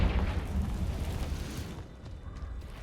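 A Confringo spell blast in the game Hogwarts Legacy, fired at an Acromantula cave: a loud, deep rumbling explosion that roars at the start and slowly fades over a few seconds, with no talk.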